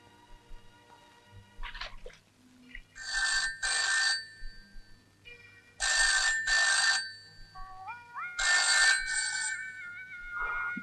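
A telephone rings repeatedly after a call is placed in a Malayalam investigation-thriller film scene. There are three clear double-ring bursts, loud and close, separated by quiet gaps, with a faint electronic tone between the last rings.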